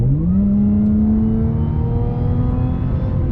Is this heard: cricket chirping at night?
no